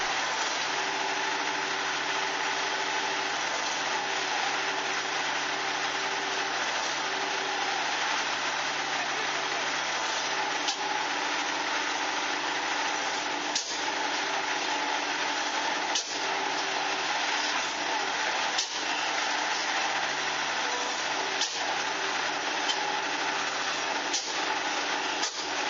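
A vintage Davant 4VN single-cylinder diesel engine runs steadily in a loud, unbroken mechanical drone, with faint ticks and knocks recurring over the constant hum.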